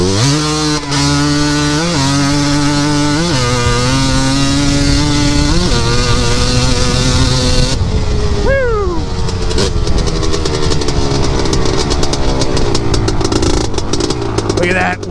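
A motorcycle accelerates hard through its gears with power shifts, the engine note climbing steeply in pitch, dropping briefly at each shift and rising again, loud and close throughout.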